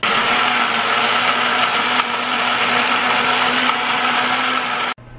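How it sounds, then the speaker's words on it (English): A countertop blender runs steadily on its base, whirring a cornstarch sauce mixture at a loud, constant pitch for about five seconds before cutting off abruptly. "pop it here on our blender base, throw on our lid, and get this blended up and ready to go"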